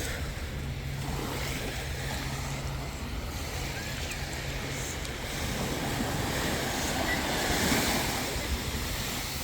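Ocean surf rolls steadily onto a beach on Florida's east coast, a continuous wash of breaking waves with some wind rumble on the microphone, no talking.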